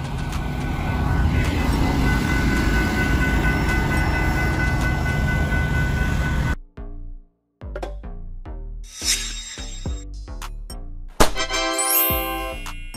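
A fire train equipped with water tanks and hoses, first a steady loud rumbling roll on the rails, then a sequence of rhythmic wheel clacks over rail joints with a bell-like ringing near the end.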